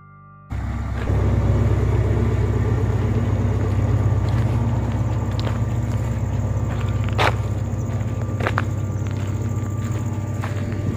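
Small cars and buses climbing a mountain road from Ghatasani toward Jhatingri and Ghogardhar, a steady close engine rumble starting abruptly after a brief quiet moment, with a few sharp clicks and knocks over it and no talking.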